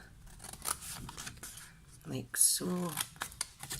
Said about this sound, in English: So you want to cut up each of these lines, okay? Like so,